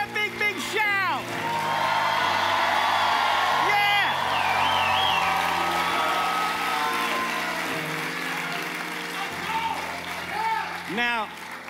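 A church crowd at a Holy Spirit Conference miracle and healing service shouts, whoops and cheers loudly and continuously, with high rising whoops cutting through the dense roar of many voices.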